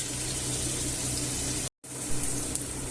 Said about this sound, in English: I'm going to rinse the chickpeas out